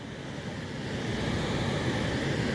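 Grass River waterfalls in New York rushing over large gneiss ledges, a steady, dense roar of falling water that swells slightly and holds constant throughout, with no voices.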